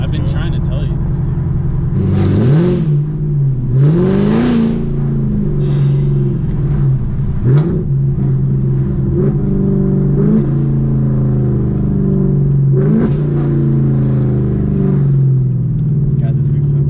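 Close, loud 2018 Camaro ZL1 V8 with Kooks long tube headers and no mufflers, idling with a deep throbbing burble and blipped several times into sharp rising revs, while people talk over it.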